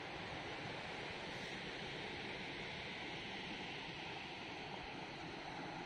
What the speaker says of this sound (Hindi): बाकी ये समुद्र किनारे का व्यू है